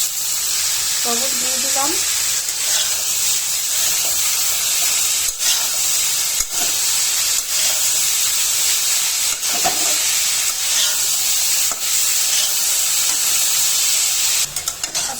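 Bitter gourd and lotkon fry in a pan without turmeric, giving a steady, close sizzle and hiss throughout, with occasional stirring scrapes and clinks, while someone speaks briefly over it.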